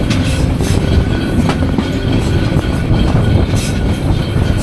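A Burimari Express passenger train in Bangladesh runs on rails near Ishwardi bypass station, giving a loud, steady rolling rumble with faint rhythmic clicks and no voices.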